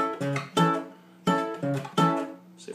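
Acoustic guitar played in a ska strum, clipped chords with a sharp thumb pop snap on the offbeats, close and clear with short gaps between strokes.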